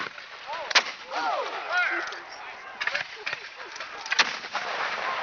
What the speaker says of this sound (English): 2 cannons going.